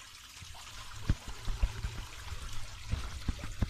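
Water being poured out, trickling and splashing in irregular bursts of small drips and splashes, fairly close and moderately quiet, with no talk.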